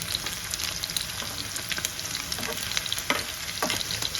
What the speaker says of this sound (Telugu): ఇప్పుడు ఇదంతా అయితే వేగనిద్దాం